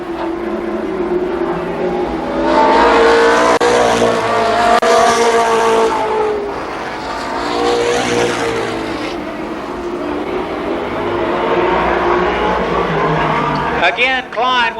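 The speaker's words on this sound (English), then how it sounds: "On the back bumper, John Klein down the backstretch." Stock race cars at Columbus Motor Speedway, loud engines roaring and droning as the pack goes down the backstretch, with passes swelling and fading under an announcer's continuous commentary.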